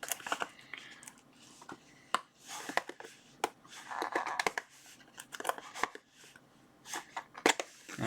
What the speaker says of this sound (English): Now let's just cut this open.